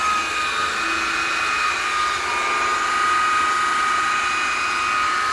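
A buffing pad on a power polisher works black polish over a painted motorcycle tank, giving a steady, close, continuous whirring whine that holds at an even level throughout with no pauses.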